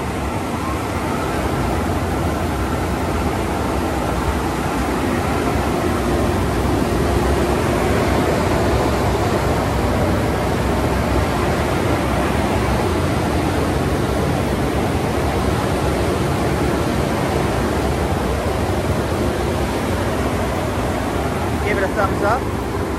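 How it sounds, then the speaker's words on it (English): A Ryko onboard dryer blows steadily at a gas-station car wash in Plantation, Florida, a loud, continuous broadband rush of air that holds constant throughout with no pauses. "Ryko onboard dryer."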